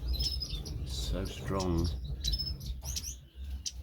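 Star finches in a birdshed, with high bright chirps scattered through the clip under someone talking close by.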